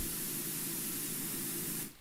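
A cleaning spray nozzle in a pressure-washing video game hisses continuously, a loud, broad, steady jet of noise that runs evenly and then cuts off abruptly near the end.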